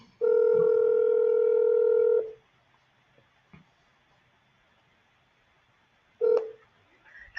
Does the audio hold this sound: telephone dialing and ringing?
yes